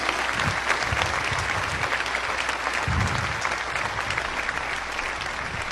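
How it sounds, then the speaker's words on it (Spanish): Loud, sustained applause from a church congregation honoring the Virgin Mary, dense steady clapping filling the space with a few heavier bursts, no talking over it. "Un aplauso fuerte a la Virgen María"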